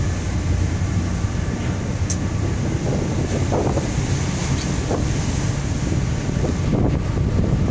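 Rough sea crossing the Taiwan Strait heard from aboard a ship: steady loud wind buffeting the microphone over the continuous low rush and wash of heavy waves against the hull, with no talking.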